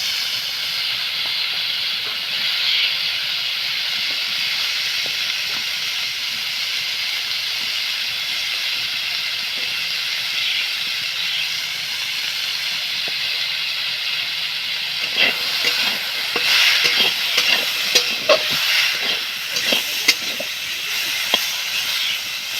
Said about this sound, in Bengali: অনেকগুলো গাজর হয়ে গেছে না তাই আমি অর্ধেকগুলো একটুকু এর মধ্যে ভেজে নিই